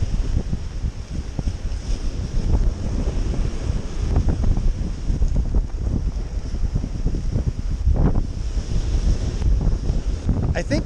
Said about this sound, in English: I think what he's doing is trying to get as much water on the kayak to see if it leaks.